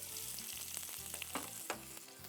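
A handful of onions sizzling in hot oil, a close, dense crackle with a few louder spits and stirring scrapes across a couple of seconds.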